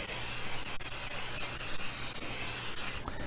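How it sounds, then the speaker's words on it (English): Cooking spray hisses steadily from a can as it coats a cake pan for a cream cheese pound cake, one long continuous spray close up before cutting off abruptly. "I'm going to spray this down really well."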